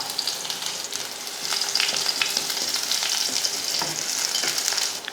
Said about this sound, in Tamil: கடுகை வந்து நல்லா பொரிய விட்டுட்டு அதுக்கப்புறமா கொஞ்சமாக வெங்காயம் சும்மா ஒரு ரெண்டு சின்ன வெங்காயம் ஒரு வரமிளகா